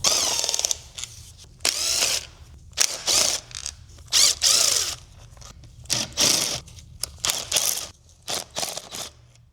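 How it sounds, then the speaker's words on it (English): Ratchet undoing gearbox bolts on a Mini engine: loud, close bursts of rapid clicking, about a dozen separate runs of varying length with short pauses between, no talking. "I'm going to take the sump off and I'm going to release the gearbox"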